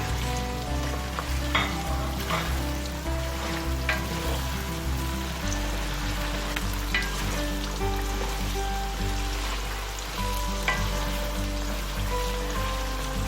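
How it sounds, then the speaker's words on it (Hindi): Chicken and green chillies fry hard in oil in a karahi, giving a dense, continuous sizzle and crackle with occasional stirring scrapes, loud and close without any talking. "अब हम इसमें हरी मिर्चें भी डाल के फ्राई करेंगे।"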